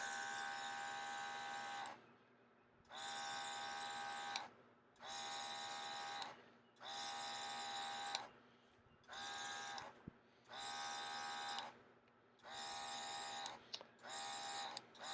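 A Casubaris portable airbrush kit running in short on-off bursts, a steady high electric buzz that starts and stops about eight times, close and fairly quiet with no talking.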